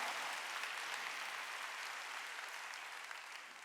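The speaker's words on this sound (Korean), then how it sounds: "빨리 박수 치라고요." A church congregation at a Wednesday worship service claps together in a continuous, fairly distant wash of applause that slowly fades toward the end, with no speech over it.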